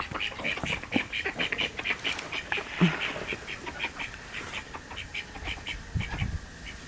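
Ducks quack repeatedly in a rapid, overlapping chorus close by, a small light-colored duck among the flock, with scattered footsteps and rustling underneath and a brief voice partway through.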